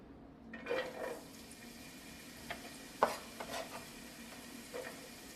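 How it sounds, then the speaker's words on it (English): Onions dropped into a pan with drained canned ingredients for a plant-based curry, giving soft sizzling under a few clanks and scraping stirs, with one sharper knock near the middle. "I'm gonna add in my onions."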